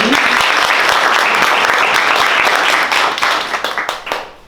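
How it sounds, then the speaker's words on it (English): Sustained audience applause for two women panelists at a design week panel, dense steady clapping from a large crowd that holds loud for several seconds, then thins and tapers off as individual claps fade out. "So big round of applause for these two ladies."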